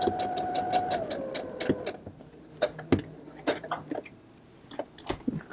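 Close, fast rhythmic clatter of a sewing machine lock stitching at the start of a tote bag seam, a steady run for about two seconds, then fabric handling and a few short clicks.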